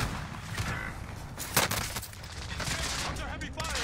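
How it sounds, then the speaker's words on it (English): Heavy video-game gunfire rattles as a dense fusillade of rapid automatic bursts and sharp single shots. The shooting is loud and continuous, with a voice talking briefly over it. "Under heavy fire."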